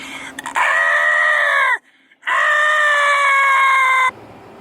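People imitate dinosaur sounds with two loud, sustained screeching roars, close to the microphone and separated by a brief pause.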